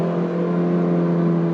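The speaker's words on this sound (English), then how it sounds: "being a nice Mazda power plant, it revs really cleanly. It loves to rev." Mazda MX-5 NC roadster engine held at a steady high rev, a smooth continuous drone with strong harmonic hum, close and loud with no talking.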